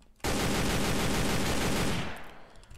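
A sustained, loud burst of rapid gunfire in the video game Sneak Thief that roars continuously for nearly two seconds before tapering off.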